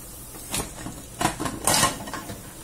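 Pots and pans shifted around in a home kitchen during Sunday lunch cooking: several sharp metallic clanks and scrapes, one early and a louder cluster in the middle, close and distinct.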